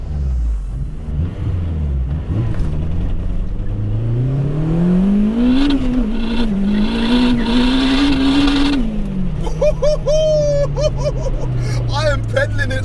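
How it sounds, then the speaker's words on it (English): A 464 bhp turbocharged Honda DC5 launches hard from a standstill with wheelspin, its engine note climbing and wavering at high revs before dropping on a shift, loud and close, with voices and crowd murmur in the background. "As you can see, it keeps cutting the wheels loose."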